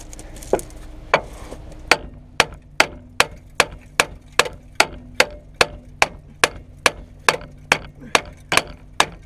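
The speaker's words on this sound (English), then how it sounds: "what we're going to do, hit this with a hammer" A hammer strikes a steel ball joint separator on the front lower suspension arm of a BMW E36 3 Series, about seventeen sharp metallic blows in a steady, evenly spaced rhythm, close and loud.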